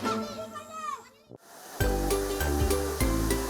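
Waterfall at Cabang Cuy, a favourite swimming spot, roars as a steady broadband rush after a voice and a brief pause, continuing loud and close to the end.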